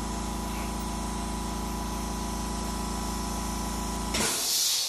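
A steady mechanical hum drones throughout, then near the end an airbrush lets out a short, close burst of airy spraying hiss, painting a 1/48 scale SR-71 model.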